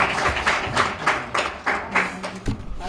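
An audience at a customer service convention applauds a speaker, a dense burst of clapping that rises and falls in waves for about three seconds, fairly loud and close.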